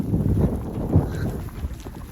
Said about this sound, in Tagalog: Grabe yung lakas ng hangin ngayon.